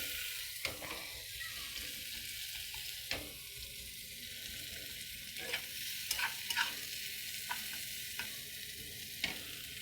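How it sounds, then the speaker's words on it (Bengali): Onion sizzles steadily in a hot pan while a spoon stirs it, giving a continuous close frying hiss broken by occasional scraping knocks against the pan. "পেঁয়াজটা একটুখানি নেড়ে নেবো, যার পেঁয়াজের জলটা একটুখানি বেরিয়ে যাবে।"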